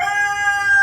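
A rooster crows close and loud in one brief, sustained, strained call lasting under a second.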